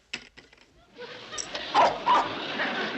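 A dog in a sitcom household gives a few short yips and barks near the start, followed by a stretch of laughter and crowd noise.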